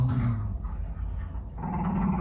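Dogs growling close by, a low, rough, continuous rumble that stays fairly loud throughout, with a slight dip in the middle before it swells again; no one talks.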